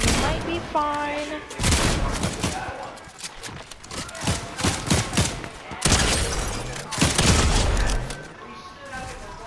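Rapid bursts of gunfire in the Fortnite video game, loud repeated shots and clattering thuds mixed with game effects and a voice talking over it.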